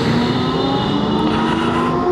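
An OLA Roadster X Plus electric motorcycle accelerating on the road, a sustained tonal whine with rising harmonics over steady wind and road rush, loud and continuous with no speech.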